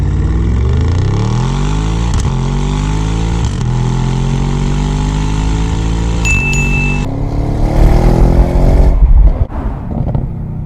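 An Audi RS6 with 720 HP launches hard under launch control, its engine revving up through rising gears in long climbing sweeps, loud and close, with a brief burst of roaring wind and road noise near the end.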